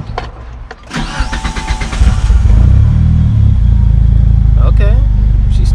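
A Mitsubishi Eclipse engine running E85 cranks and catches, rising into a loud, rumbling idle close by, with brief talk before it and again near the end.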